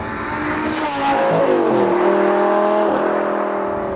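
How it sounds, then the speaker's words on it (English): A supercharged 2011 Lamborghini Gallardo LP560-4 engine revs loudly and steadily, its pitch climbing, dipping and rising again, heard up close with no talk. "This is a 2011 Lamborghini LP560-4 with VF Engineering's bolt-on supercharger kit."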